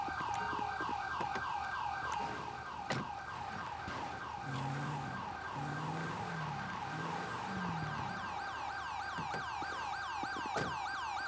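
A wailing ambulance siren from the video game GTA5 cycles continuously and loudly, with a lower engine-like tone briefly underneath midway; no one speaks.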